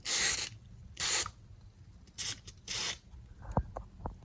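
Lubricant spray squirted onto garage door roller assemblies in several short bursts, close and hissing, with a few small clicks of handling near the end.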